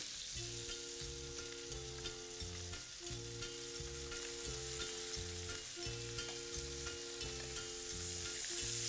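Meat browns in a hot pan on high heat, giving a loud, steady sizzle and fry with no break, while a utensil keeps scraping and stirring in a regular rhythm.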